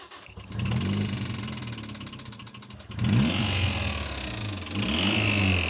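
A blown-turbo Toyota Yaris engine runs roughly and knocks after dying over the line, loud and close, surging in two rough bursts with uneven low rumbling and no talk.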